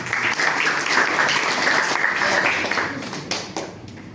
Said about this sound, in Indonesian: tepuk tangan untuk Mbak Lesa